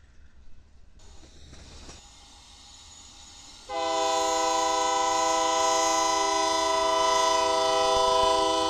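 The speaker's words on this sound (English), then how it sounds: "over at Tower 26, we see a UP manifest train moving through." A Union Pacific manifest freight train rolls through Tower 26 in Houston: a low rumble of passing wagons, then a loud, sustained horn blast kicks in partway and holds steady to the end, close and dominant.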